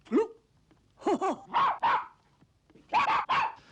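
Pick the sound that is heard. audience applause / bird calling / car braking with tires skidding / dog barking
dog barking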